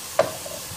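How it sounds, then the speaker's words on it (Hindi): Vegetables with green onion and garlic being sautéed in a pan, a single short stir and sizzle burst followed by quieter frying hiss, heard alone. "इन सब्जियों को हमें पकाना नहीं है, जस्ट सौते करना है।"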